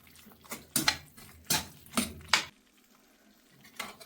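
Chicken ghee roast is stirred in a pan, making four or five distinct scraping and clinking bursts of spoon on metal over a faint sizzle, with a pause before one last stroke.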